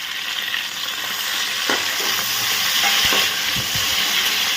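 Capsicum stir-frying in a pan, a loud continuous hiss of hot oil with a few soft scrapes and knocks of the spatula tossing the pieces, nobody talking.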